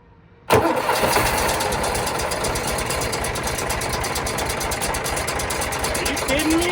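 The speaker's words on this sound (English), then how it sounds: "I'm just gonna try and do this easy way and jump the starter and see what it does" A neglected John Deere tractor engine, started by jumping the starter, cranks and catches abruptly after a brief silence, then runs at a loud, steady, slightly knocking idle.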